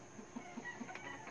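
Hens on a Filipino backyard farm cluck in short, soft bursts, a few separate notes spaced through a brief moment against faint background noise.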